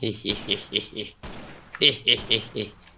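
Gunfire in the video game Minecraft comes as two quick volleys of roughly four to five evenly spaced, close shots separated by a brief pause.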